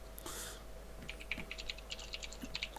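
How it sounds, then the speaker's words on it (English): Keys clacking on a mechanical keyboard during a card-game draft session, a quick run of crisp, close taps in an uneven rhythm over a low background hum. "Tippity tappity. Tippity tappity. Sorry, apologies. Didn't realise that was that loud. Good old mechanical keyboard."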